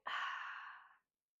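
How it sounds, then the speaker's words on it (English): A woman doing a postpartum exercise session lets out a single soft, breathy yawn, close and quiet, lasting about a second before silence. "I'm yawning"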